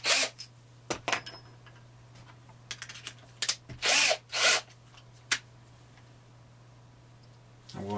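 A power drill drives a 1-inch screw into a sculpture beside aluminum wire, in a few short whirring bursts with light clicks and taps between them in a quiet room.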